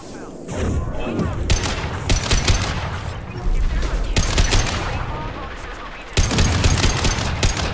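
Gunfire in Mass Effect 2, dense loud bursts of shots and impacts throughout, with a sharp volley near the end and battle noise between.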